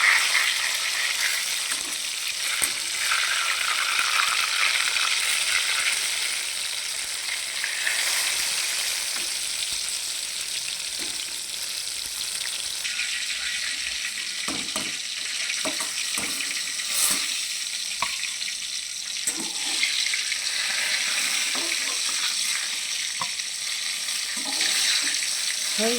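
Eggplant frying in oil in a home kitchen, a steady broad hiss and sizzle running throughout with scattered small crackles and pops, fairly quiet and close, with no talking.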